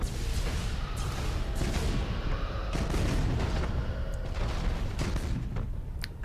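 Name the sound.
Lance weapon firing in Battlefleet Gothic Armada video game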